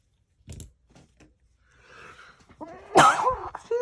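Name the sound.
sneezing from allergies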